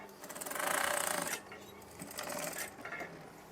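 A sewing machine stitching curtain fabric, running in two short bursts of fast mechanical whirring with a brief pause between them, close and moderately loud.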